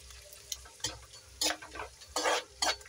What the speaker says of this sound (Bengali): ঠিক আছে তেল গরম হয়ে গেছিলো, দেখো তেলের মধ্যে চিড়া দিয়ে